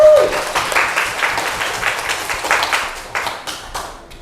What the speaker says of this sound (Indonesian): Beri aplaus untuk kelompok tadi.